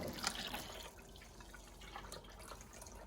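Liquid poured into a container up to the brim, a faint close splashing trickle, brighter at the start then softer and steady.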